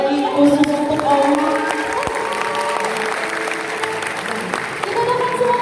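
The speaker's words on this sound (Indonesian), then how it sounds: "tepuk tangan sekali lagi khusus untuk Owi" A large audience at a final dance performance showcase applauds and cheers steadily, dense clapping filling the hall while tonal music or voices carry over it throughout.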